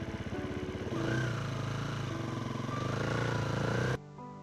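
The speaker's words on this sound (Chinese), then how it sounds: "这个叫摩托车" A motorcycle engine runs with a steady, pulsing throb that swells slightly after the first second, then cuts off abruptly near the end, leaving a quieter hum.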